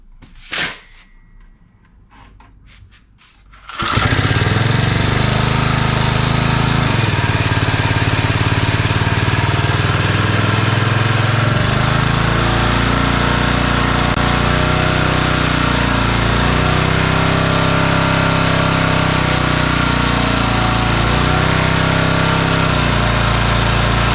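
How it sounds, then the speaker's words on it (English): A very old Briggs and Stratton 2HP rototiller engine fires up after a few seconds of quiet handling noises, then runs loud and steady with a constant buzzing drone and slight variations in speed. "we know the engine starts up and runs. Let's see if the rototiller part works now."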